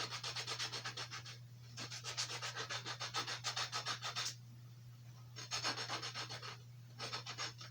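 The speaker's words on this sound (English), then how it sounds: "Sanding does too." Steady back-and-forth rasping of coarse 40-grit sandpaper on carved wooden horses in rhythmic strokes, with a couple of short pauses, close by over a low steady hum.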